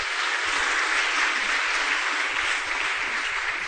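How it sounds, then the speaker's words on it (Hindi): Audience applause fills the hall in a dense, even wash of clapping, sustained and fairly loud throughout with no break and no talk on top. "अगर आपको गौरव लगे तो ताली बजाना"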